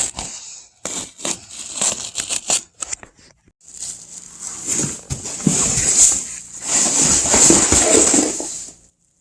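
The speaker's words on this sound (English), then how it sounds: "Now I'll cut my listing here with my knife" Knife slicing through upholstery listing on a boat seat, crisp tearing and cutting strokes in short bursts, then longer rasping cuts up close.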